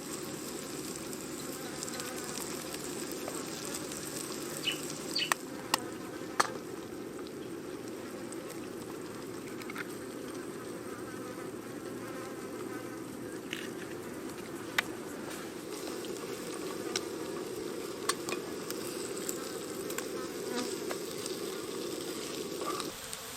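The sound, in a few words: flies buzzing around camper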